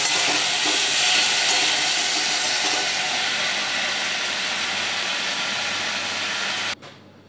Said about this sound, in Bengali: চিংড়ি মাছটাকে আমি হালকা করে ভেজে নেব